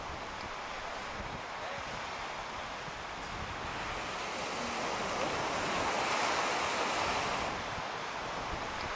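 Surf washing onto a wide sandy beach at the seaside town of Tynemouth, a steady soft roar that swells slightly midway, with wind buffeting the microphone and no voices.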